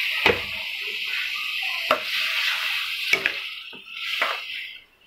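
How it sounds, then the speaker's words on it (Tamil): Water poured into a pan of simmering potato kurma with ground coconut, a steady wet splashing and stirring with a few sharp clinks of a utensil against the pan, close and moderately loud, no talking. "தேவையான அளவு தண்ணி ஊற்றிக்கோங்க."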